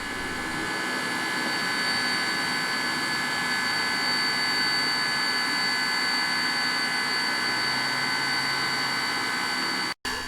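Small locomotive from a family-owned fleet of little engines running nearby, a constant loud droning hum with steady tones, unchanging for several seconds before a brief cut near the end.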